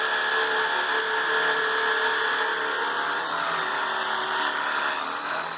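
A WORX HydroShot power washer, with a little Clorox added, sprays water to clean a small square of surface behind a trailer: a steady, close hiss with a motor whine running unbroken throughout.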